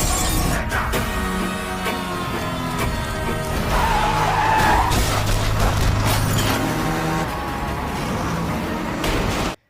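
A Molotov cocktail thrown by an attacking motorcycle gang in an Indian action film: loud, sustained crashing and breaking glass over a roaring, churning background that runs unbroken for several seconds.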